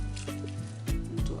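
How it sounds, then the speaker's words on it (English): Defrosted frozen shrimps are dropped into a pot of catfish banga soup, giving soft wet squishes and splashes in a few quick bursts over a low background hum. "So I'm adding my shrimps now."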